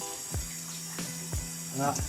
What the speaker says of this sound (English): just to turn the tap on and remove the plug. Let it run for a couple of seconds there.